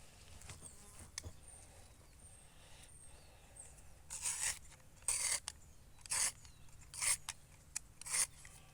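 Short, rasping scrapes on a kiwi (actinidia) plant cutting, done to encourage rooting, arriving in about five brief bursts spaced roughly a second apart over a quiet background.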